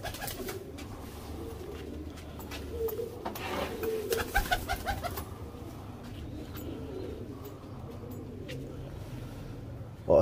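Pigeons of the Teddy and Sebay Walay breeds coo softly and steadily in a loft in Faisalabad, a low continuous murmur with background rustling and a brief louder sound at the very end.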